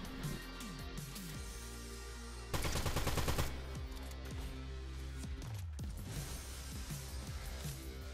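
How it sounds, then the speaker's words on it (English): DMR rifle fire in Fortnite Chapter 5, a burst of rapid, loud, sharp shots in the middle amid ongoing game sounds and scattered effects. "we sniped him out of the sky with the DMR"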